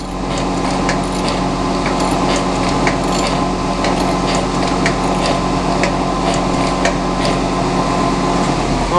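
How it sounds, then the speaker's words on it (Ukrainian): A pantograph machine grinds a surface while engraving a leather stamp, with a steady, loud mechanical drone and a continuous abrasive hiss, running without pause. "Тепер йдемо на пантограф шліфуємо поверхню в пісках лекальних."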